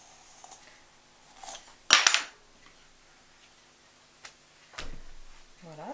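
A tool slices off excess clay while a mug is hand-built without a wheel: a short, crisp scraping cut stands out, with a few faint taps and clicks around it in a quiet room.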